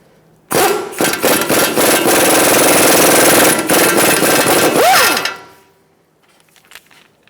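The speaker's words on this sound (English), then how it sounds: "Now we're going to use a 17mm socket and we're going to take off the tie rod nut." A 17mm socket on an impact wrench spins off the tie rod nut of a 2012-2019 Fiat 500, giving a loud, steady hammering burst of about five seconds that ends with a short whine as it spins down.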